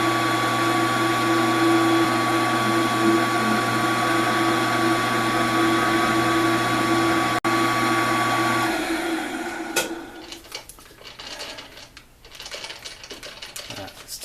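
A lathe turns down a worn, leaking pedal shaft from a 1925 Ford Model T, its motor whining in a steady tonal hum for about nine seconds before shutting off into quieter, scattered workshop clatter.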